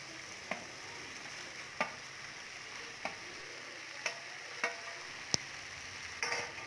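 Small cut pieces of idli are stirred into spicy masala in a pan during home cooking, with a soft steady sizzle underneath and occasional light taps of the spoon against the pan at irregular intervals.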